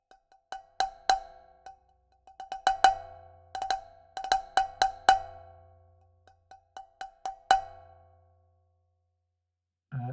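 Bright metallic clangs from a wok struck in the center ring out in quick irregular clusters, each strike decaying with a bell-like tone, then a brief low thump at the end.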